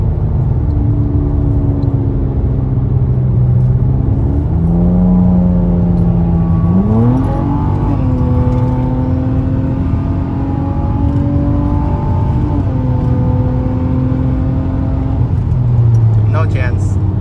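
A 7th-generation Nissan Maxima races a tuned Hyundai Veloster, with loud engine tones climbing and dropping through several gear changes under a heavy rumble, recorded close from inside a car.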